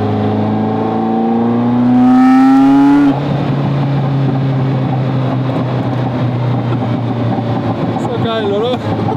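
A Ferrari F40 engine revs hard while the car drives, rising in pitch to a loud peak before settling into a deep, steady, close-up drone.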